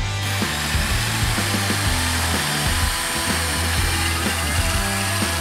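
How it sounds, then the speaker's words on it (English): A mechanical mixer blends Belzona 4141 solidifier and base in a bucket, a loud, steady motor whine with a rough churning grind that runs continuously throughout. "Start mixing both components together using a mechanical mixer."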